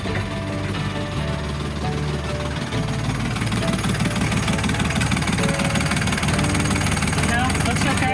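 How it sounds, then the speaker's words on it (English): An old catamaran's diesel engine runs loudly and steadily, a close constant throbbing rumble with vibration, while a person talks over it. "now that the engine's nice and loud?"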